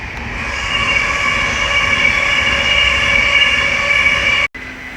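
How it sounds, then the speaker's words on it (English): An Avanti West Coast Class 390 Pendolino from London Euston to Manchester Piccadilly rushes past at Willesden Junction on the West Coast Main Line, a loud steady roar with whining tones, cut off abruptly near the end. "Right there is the Avanti West Coast service from London Euston to Manchester Piccadilly,"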